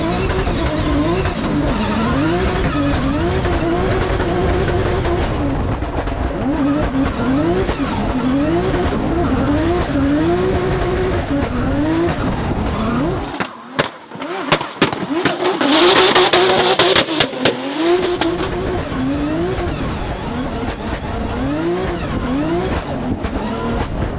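A drift car laps a newly opened race track, its engine revving and surging in repeated waves with tire squeal. The sound is loud and close, and there is a brief sharp burst of noise partway through.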